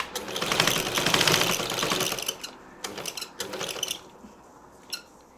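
A sewing machine stitches piping onto a churidar top, a rapid mechanical whirring burst at first that slows into short intermittent runs and clicks, close and alone.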